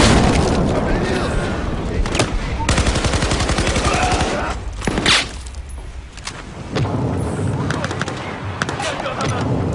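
Battlefield 4 campaign combat, loud and close: rapid automatic gunfire rattling almost continuously, a heavy booming explosion midway, then more bursts of shots, with a voice speaking over the fighting.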